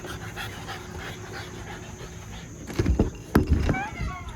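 A French bulldog pants in short, rough bursts close by, growing louder toward the end of the clip, with soft movement and household noise underneath.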